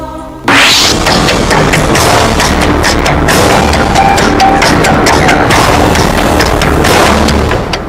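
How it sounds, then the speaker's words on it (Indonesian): A truck carrying explosives blows up inside a tunnel in Yunnan Province, China, a sudden loud boom followed by several seconds of dense, roaring crash and rumble with scattered bangs. "Sebuah ledakan di terowongan di Provinsi Yunnan, Cina menyebabkan 20 orang tewas."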